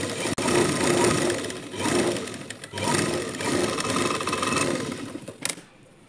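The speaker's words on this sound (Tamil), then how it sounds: "இப்போது நெக்லைன் தைச்சி எடுத்துக்கலாம்." A sewing machine stitches the neckline of a lined blouse in a steady mechanical whir. The run pauses briefly twice before trailing off near the end, with no talking.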